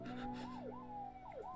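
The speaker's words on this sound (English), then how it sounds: "You can hear the siren in the background." An emergency siren wails in the background, its tone sweeping up and down in repeated swoops at moderate distance over a low steady hum, with no one talking.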